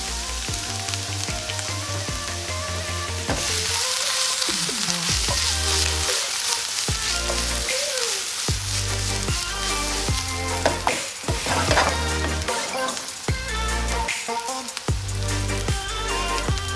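Chopped onion sizzles steadily in hot olive oil in a pan over medium heat. The frying is loud and close, with occasional stirring scrapes and no talk.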